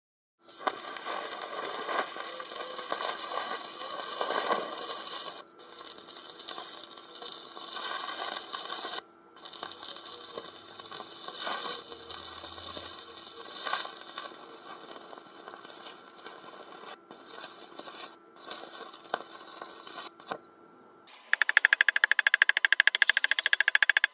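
MIG welding with a Decapower Synmig 200 A multifunction welder, a steady crackling, buzzing arc in long continuous runs broken by a few short pauses, close and with no talking.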